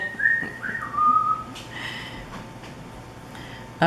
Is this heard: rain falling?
no